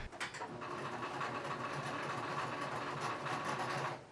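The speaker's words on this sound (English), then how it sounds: "And I'm gonna sew this together first." A sewing machine stitches pillow fabric together with a steady, rapid mechanical whir and rattle that runs almost the whole clip at moderate loudness, with no talking.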